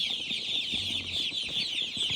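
Broiler chickens, including Redbro and naked-neck birds, cluck and murmur continuously, a busy flock chattering close by with no other sounds.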